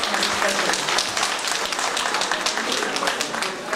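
An audience at an ethno festival event in Ilinden municipality applauds the mayor with dense, steady clapping that fills the whole moment at an even level.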